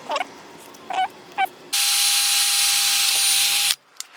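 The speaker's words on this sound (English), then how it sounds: "So I want to drill it right there." A power drill bores a hole for a light bar J-hook on a Mazda Miata, running in one steady, loud whine for about two seconds after a few faint chirps, then cutting off abruptly.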